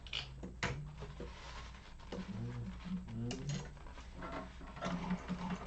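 A sewing machine top stitches fabric for a Yoshi sling bag, a faint mechanical whir with small clicks and knocks, quiet and close in a sewing class.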